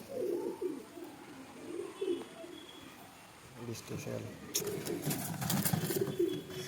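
Soft, low pigeon coos repeat close by, followed by rustling and fluttering noises in the second half.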